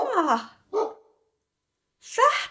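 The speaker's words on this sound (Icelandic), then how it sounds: "Þetta var hundurinn að gelta." A dog gives three short, distinct barks with quiet pauses between them, heard clearly and alone.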